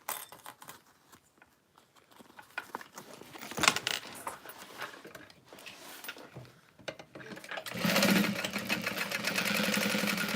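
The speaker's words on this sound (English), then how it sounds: "we're gonna sew that shut" Faint clinks and handling noises come first, then a sewing machine starts up near the end and runs steadily, stitching a lining pocket shut on a handmade bag.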